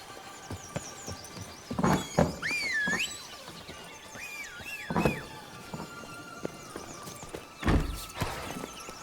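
Horse hooves in The Witcher 3 thud in scattered clusters of clip-clop beats, fairly close, with a brief high squealing sound between them and a quiet background.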